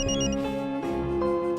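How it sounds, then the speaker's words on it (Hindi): A bright electronic ringtone plays steadily, a repeating melodic chime that is loud and close, with no voices over it. "फोन बज रहा है, उठाती क्यों नहीं?"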